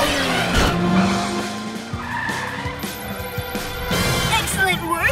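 PJ Masks Cat Car from the cartoon skidding off: sharp tire squeals and screeching slides with an engine rush and a brief crash-like hit, loud and close, with a voice calling out.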